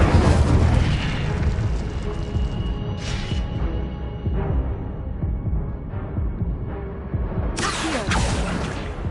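The Incendio fire spell is cast over and over in Hogwarts Legacy, giving a loud, sustained roaring blast with booming bursts and crackling flares that return near the end.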